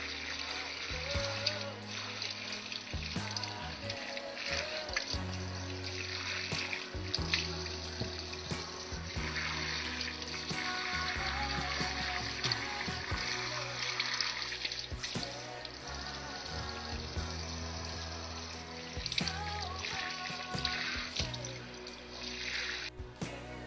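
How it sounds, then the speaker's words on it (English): Cut pumpkin pieces are rinsed under a running kitchen tap, water splashing and gurgling steadily in a sink with occasional clunks of handling, close and fairly loud for the whole stretch. "now I'm going to wash the parts off just to get any extra parts off"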